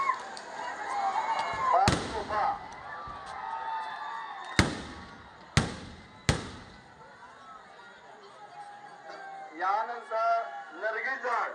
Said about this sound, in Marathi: त्यानंतर सलग 5 तोफा आहेत.